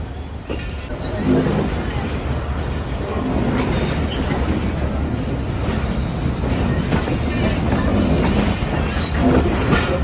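The Khushal Khan Khattak Express rumbles steadily onto the loop line at Landi Junction, wheels grinding and squealing on the rails in a continuous loud roar.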